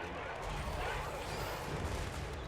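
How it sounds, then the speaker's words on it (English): Shotgun volleys in the video game Total War: Warhammer III, a dense, continuous rumble of battle gunfire with no distinct separate shots, steady and loud throughout. "Shotguns are firing!"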